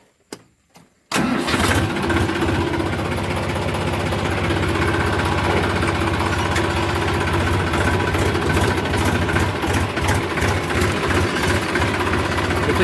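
A tractor's diesel engine cranks and fires after a few faint clicks, then settles into a loud, steady, close chugging run as it moves off on a rainy day in a village.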